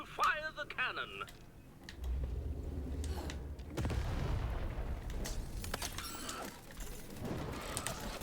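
Cannon blasts from the Lost in Random video game, deep booms followed by rumbling impacts and mechanical clatter, mixed with game sound effects and a narrow chime-like tone early on.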